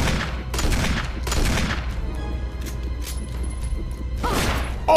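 Gunfire in the survival horror game Resident Evil Remake on hard mode, several loud shots and booms at irregular intervals with mechanical clatter between them, and no talk.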